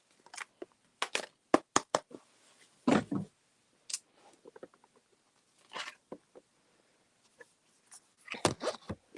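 Oracle cards shuffled by hand, a run of quick papery riffles and soft slaps in irregular bursts, close and clear with no talking.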